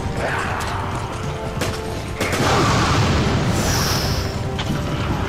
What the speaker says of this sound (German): Das hört sich nach einer Explosion an.